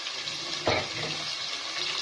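Chicken pieces frying over high heat for a coconut milk chicken dish, a steady broad sizzle hissing throughout with a brief louder crackle burst near the start, close and fairly loud with no voices.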